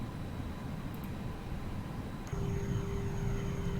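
Aircraft engines roar steadily on an airport apron in the Prepar3D flight simulator, a broad loud rumble that jumps louder with a rising whine partway through as a nearby engine spools up.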